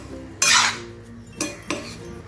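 A spoon scrapes through whole masoor dal and rice in a pan: one longer, close metallic stir, followed by two shorter clinks against the pan's side.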